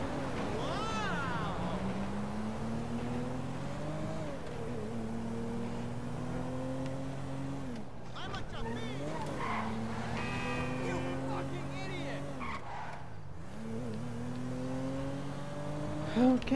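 A car engine in the video game Grand Theft Auto V, droning with rising and falling revs as it accelerates and shifts repeatedly, steady and fairly close.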